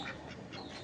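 Ducks quack in a short, busy burst at moderate distance, several calls overlapping against the patter of beginning rain, with no voices.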